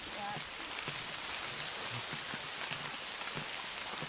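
Heavy rain falls steadily on the surfaces of an outdoor cemetery, a dense, even hiss that stays close and continuous from start to finish.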